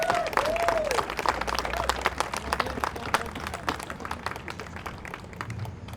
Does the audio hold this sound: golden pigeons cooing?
no